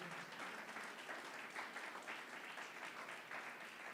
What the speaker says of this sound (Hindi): जोर से ताली बजाएंगे, हालेलुया।